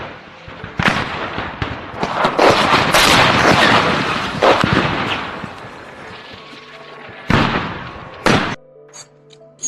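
Heavy artillery shelling in war footage from the Russian invasion of Ukraine: loud, rolling booms and crackling blasts overlap densely, then two sharp isolated explosions ring out near the end before sudden quiet.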